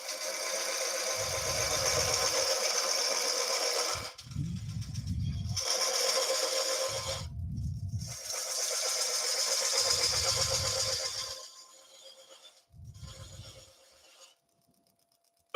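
Wood lathe spinning while turning gate post finials, a steady broadband whir that repeats in several bursts, with gaps and low thumps between runs, loud and close, and no talk.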